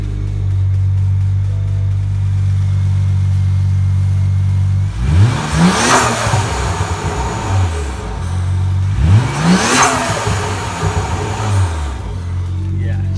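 Car engine with 19T turbos and a burble tune, idling loudly up close, then two sharp revs that rise and fall with crackling pops, while a person talks nearby.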